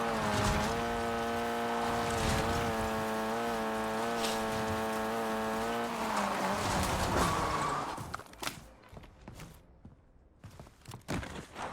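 A car engine hums steadily and fairly loud in the video game Warzone, its tone shifting as the vehicle drives, then cutting out around eight seconds to a few thumps and faint game noise.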